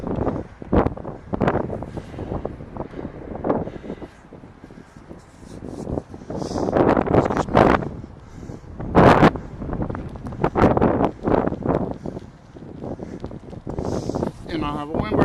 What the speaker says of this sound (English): last wind blast that I just went through